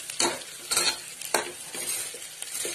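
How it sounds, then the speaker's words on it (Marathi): Basmati rice with turmeric fries in a pan while a spoon scrapes and turns it in quick, repeated strokes over a continuous close sizzle. "मी तांदूळ टाकले आणि व्यवस्थित 1-2 मिनिटं फ्राय करून घ्यायचे ते तांदूळ"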